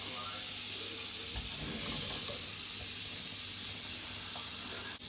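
Margarine sizzling in a frying pan, a continuous hissing crackle with a few clatters from the pan, fairly faint and close.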